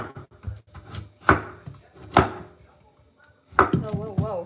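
A knife chops food into thin slices on a board, a handful of crisp, separate thuds with pauses between, close and clear, with faint background murmur.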